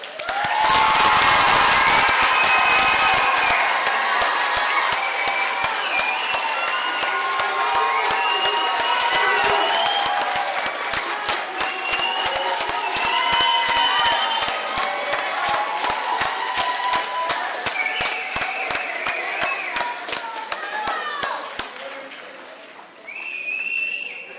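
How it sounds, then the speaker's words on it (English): A graduation ceremony crowd at Tar River Academy gives the 2021 graduates a long, loud round of dense applause with cheering and shouted voices layered over the clapping, sustained for over twenty seconds before tapering off. "Now let's give our graduates a huge round of applause."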